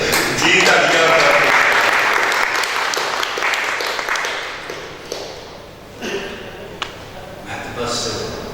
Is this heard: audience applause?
yes